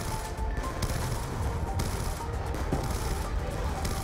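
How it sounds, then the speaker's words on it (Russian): RPD machine gun firing in Black Ops 2, a rapid burst of loud, sharp gunshots layered over one another in quick succession, with no talking. "На один выстрел из РПД мы слышим звук сразу нескольких."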